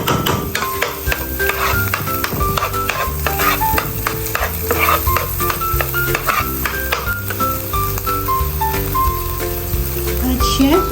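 Butter frying in a pan for homemade Mang Tomas sauce while being stirred, a loud continuous sizzle with frequent metallic scrapes and clinks of the utensil against the pan.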